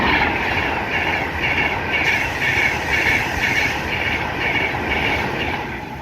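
A Class 390 train, unit 390-155, runs through Wolverton station on the West Coast Main Line with a loud, steady rush and rhythmic wheel clatter that fades slightly at the end, no voices.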